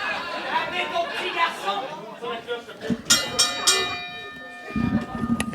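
A wrestling ring bell at an intergender wrestling show rings several bright, metallic strikes midway through, standing out above crowd chatter, with a voice talking before and after.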